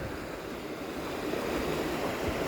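Clear mountain runoff water rushing fast past a roadside stop, a dense steady broadband roar with no pauses, close and fairly loud, with no voices.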